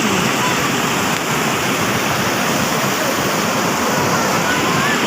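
A Kashmir waterfall at Doodhpathri tumbles over smooth, worn rocks, producing a loud, dense, unbroken rushing roar that fills the whole scene at close range.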